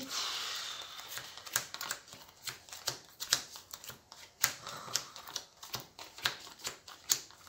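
A deck of Harry Potter Hogwarts Battle game cards is riffled and shuffled close by, a rapid run of crisp papery flicks and clicking snaps in quick irregular bursts, heard alone without talk.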